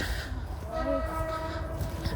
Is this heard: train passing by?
yes